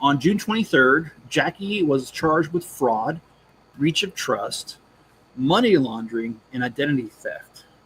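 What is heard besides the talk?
No everyday noises stand out.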